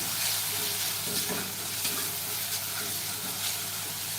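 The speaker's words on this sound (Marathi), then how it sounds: "कांदा चांगला परतून घ्या" Finely chopped onion sautés in a pan for a Marathi sukat batata rassa, a soft, even sizzle at low volume with faint scattered clatter and no talking.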